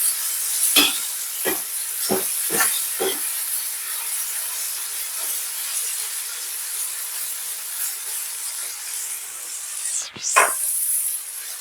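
Butter sizzles and hisses in a hot cooking pan while a Jamaican dish cooks, a constant loud sizzle with several quick stirring scrapes early on and one more near the end.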